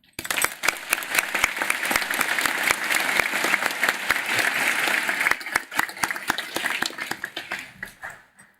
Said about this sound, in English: Please join me in a round of applause to thank them.